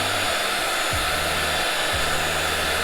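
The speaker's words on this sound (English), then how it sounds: "it's a hot air blower and it doesn't get too hot, but it blows more air" A hot air blower blows over liquid resin on marble-style cheeseboards, a loud, steady whooshing rush that runs the whole time with a low hum that dips and shifts in pitch a few times.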